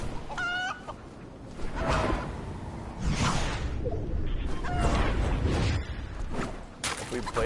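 Chicken clucks from the Fortnite chicken glider, brief stacked tones early on amid game whooshes and a busy, loud game mix with talking throughout.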